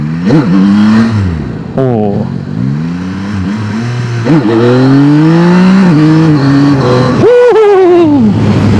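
A Yamaha Tracer 9 GT V4 motorcycle engine revving hard during a wheelie, with loud, close rising and falling revs that climb repeatedly through the gears over a continuous engine drone.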